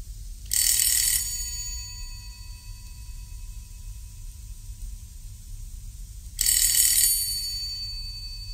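Two bright electric doorbell rings for a German science-fiction radio play, each a shrill burst of about half a second, spaced roughly six seconds apart over a low hum.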